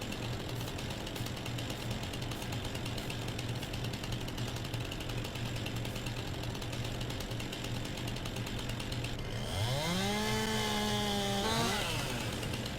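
A chainsaw cuts through a tree in Farming Simulator 19, a loud, steady rasping buzz that holds for several seconds, then the engine pitch swoops up and down as it revs near the end.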